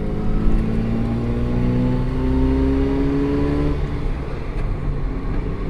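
A stock 1995 Mazda RX-7 FD with a 13B sequential twin-turbo rotary idles while warming up, a close, steady drone with a slowly shifting pitch that holds alone without talk.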